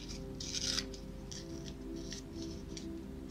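Scissors snipping through paper in a children's art and craft lesson, a few short crisp cuts repeating at an uneven pace over a steady low background hum.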